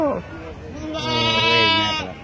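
Goats bleat close by at a busy sheep and goat market, one wavering, drawn-out cry rising over a brief earlier call, with people talking nearby.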